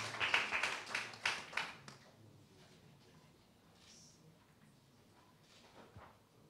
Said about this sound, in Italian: Un applauso alla pittrice